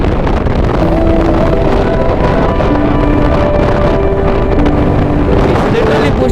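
Strong crosswind roaring and buffeting against a motorcycle on the road to Spiti Valley, loud and constant for the whole stretch, with the engine's steady hum underneath.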